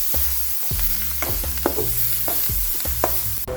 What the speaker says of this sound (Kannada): ಹಾಕೊಂಡು ಎಲ್ಲ ಚಂದಿಗೆ ಮಿಕ್ಸ್ ಮಾಡ್ಕೋತೀನಿ ರೀ